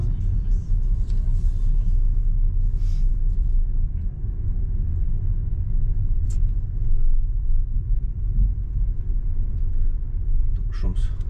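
A car rolling into a small rural village shop's lot, a loud continuous low engine and road rumble throughout with a few faint higher clicks, under a voice speaking.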